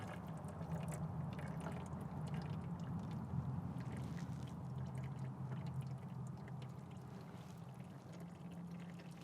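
Dark, old gear oil drains from the front differential of a Subaru Crosstrek, a steady continuous pour and trickle heard close up, unbroken for the whole stretch with no talking.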